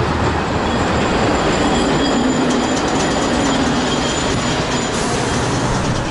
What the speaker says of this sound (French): on va prendre le tram quand même finalement